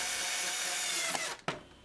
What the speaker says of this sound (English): I attached the two pieces together so I could drill the hole